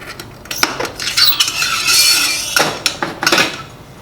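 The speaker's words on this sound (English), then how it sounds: "Install the new element through the roller tube." A metal heating element slides through the tube of a Star roller grill, giving a sustained scraping rub with metallic clinks and taps at the start and end, close up and loud, with no voices.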